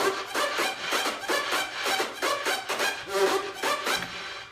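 A music mix run through a ducked reverb, with a rhythmic, full-band pattern of pulsing hits whose wet tail swells between the beats and dips under each dry note, steady and fairly loud throughout.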